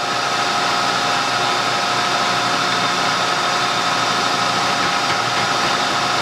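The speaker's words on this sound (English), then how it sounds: "We have the cutter going about 250 RPMs, and right now I'm just going to raise the table up until it just touches off." A milling machine's cutter spins at about 250 RPM while the table is raised toward it, making a steady, continuous whirring hum with a faint tonal whine that stays loud and unchanged throughout, with no voices.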